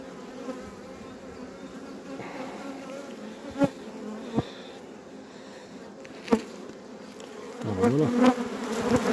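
Dense, agitated buzzing of honeybees swarming over a hive brood frame during a hive inspection, continuous and close, with a few knocks and a brief spoken word.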